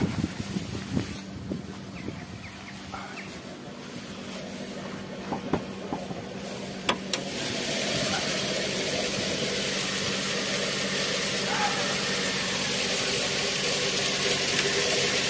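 A Suzuki SX4 engine cranks and fires into a steady, even idle that drones on unbroken, after a stretch of quieter mechanical noise and small clicks.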